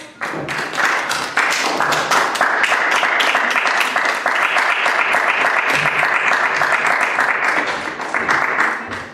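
A crowd claps loudly and continuously to welcome a band onto the stage at a live event, a dense, close wash of hand claps sustained throughout with distinct individual claps standing out.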